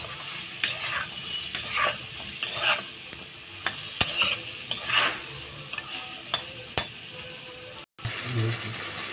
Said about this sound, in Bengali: বেগুনটা একটু ভালো ভাজা হবে।